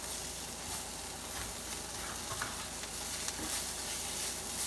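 Food for a Texas scramble fries in an oiled pan with a low, steady sizzle, with faint scraping and turning sounds now and then.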